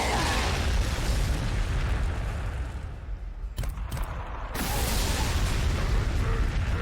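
Frag grenade explosions in the Warhammer 40,000: Sanctus Reach strategy game, heard as a dense, rumbling roar of booms and bursts that fills the clip and dips briefly in the middle before swelling again.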